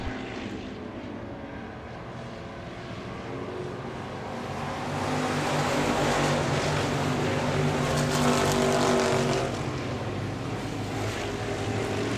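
Dirt track race cars at Victory Lane Speedway in Manitoba, Canada, charge into a turn with a continuous roar of engines that swells louder midway and holds steady, with no talking.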